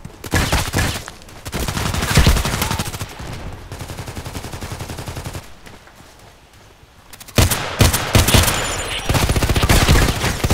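SKS carbine gunshots in the Contract Wars video game: loud, sharp shots close by, fired in a burst, then a short lull and more firing.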